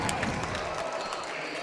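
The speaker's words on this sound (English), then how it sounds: "The crowd is into it." Crowd cheering and roaring at a Big Ten college wrestling match between Rutgers and Michigan State, a sustained loud wash of voices filling the arena.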